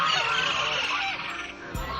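Ducks honk and quack loudly in a cartoon farmyard, a dense run of calls that thins near the end with one low thump.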